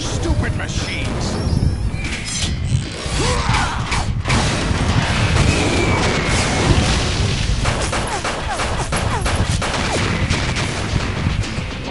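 Dense, continuous gunfire and booming blasts from a Metal Gear Solid 2 battle, loud and close, with rapid overlapping shots, clanking mechanical noise and intermittent voices over twelve seconds.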